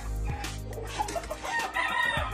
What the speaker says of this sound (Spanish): Pone las gallinas al gallo